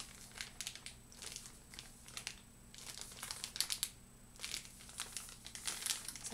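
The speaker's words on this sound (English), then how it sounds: "one of my favourite things about Cadbury chocolate is the sound the packaging makes." Close, soft crinkling of Cadbury chocolate wrapper packaging, with quiet irregular crackles and rustles repeating throughout and no voices.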